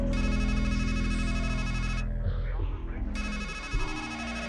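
Electronic phone ringtone in the game Strangeland, loud and continuous, pausing briefly mid-clip before resuming, with voices talking underneath.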